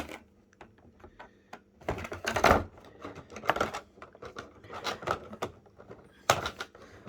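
Scissors cut open the plastic packaging of a Bakugan Gen 3 Diamond Special Attack Dragonoid pack, giving irregular snips and crinkly bursts, fairly close, with quieter rustling between them.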